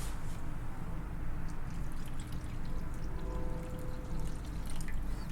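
Twelve ounces of water pours steadily into a takoyaki batter mix in a kitchen, a continuous soft gurgling stream with light drips, close and unbroken for several seconds.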